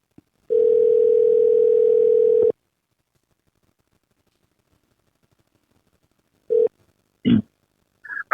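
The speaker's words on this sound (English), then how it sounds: "Let's give him a call." A phone call to a senator's office begins with a two-second steady tone, then silence, followed by a short tone burst and a few clicks on the line.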